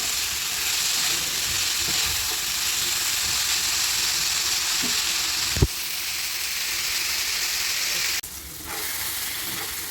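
Chicken and vegetables fry in a pan for chicken noodles, giving a steady close sizzle with a few stirring clinks and a drop in intensity near the end.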